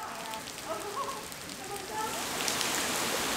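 Heavy rain falls steadily outdoors in Korea, a dense hiss that swells louder in the second half, with faint indistinct sounds underneath and no clear speech.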